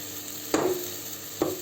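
Pork curry fries in a pot as a utensil stirs it twice, each scrape close and distinct against a steady low sizzle. No one talks.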